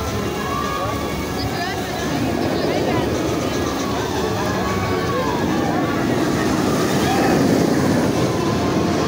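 A Hulk roller coaster at Universal Studios rumbles on its track, a continuous loud roar with rattling and faint squealing, as heard from the ground with a voice talking over it.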